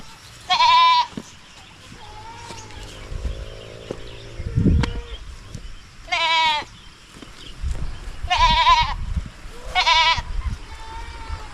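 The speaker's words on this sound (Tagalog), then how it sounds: "Dalawa po yung tinalian namin para may kasama yung kambing natin. Para hindi siya iyak ng iyak ba?" Goat bleats in a farm setting, four loud wavering calls repeating at intervals of a few seconds, with a brief thump and low background rustle between them.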